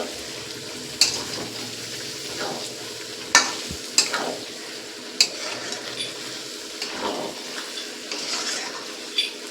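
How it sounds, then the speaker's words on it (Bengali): Chicken with peas and coriander sautéing in a pan, a steady close sizzle with intermittent scrapes and clinks of a spoon stirring against the pan, no voices. "মিনিট 5 মতন ধনেপাতা আর মটরশুঁটিটা দিয়ে আবারও আমি কষিয়ে নিচ্ছি।"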